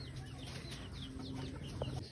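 Chickens and roosters cluck softly and repeatedly at a distance over a faint background hiss, with no talking.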